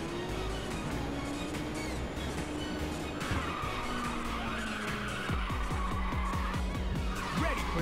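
A car drifts through a corner in Ridge Racers 2, tires squealing in long sliding whines over a droning race engine, followed by a revving upshift and rhythmic engine pulses.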